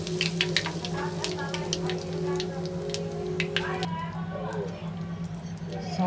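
Mustard seeds and asafoetida sizzle and crackle in hot oil, a steady, close frying hiss that runs throughout, with a voice talking over it at times.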